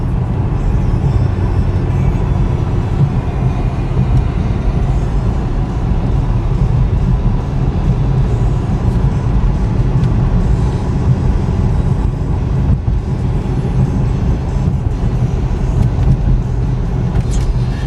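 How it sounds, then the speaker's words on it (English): A 2009 Cadillac CTS-V driving straight down the road gives a steady, loud, continuous low rumble of engine and road noise with no talking. "We're going perfectly straight down the road."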